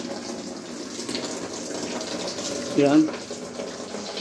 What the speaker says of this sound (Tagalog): Pwede na po tayong maglagay ng tubig.